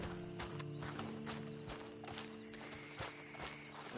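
A horse walks in Red Dead Redemption 2 Online, its hooves giving a steady, moderately quiet clip-clop over a constant low game ambience.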